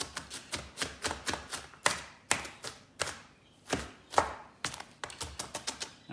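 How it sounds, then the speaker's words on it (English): A knife chops onions finely on a board in quick, irregular rapid taps with a few heavier strikes, close and fairly quiet, and no one speaks. "all of a sudden you've got teeny tiny chopped pieces"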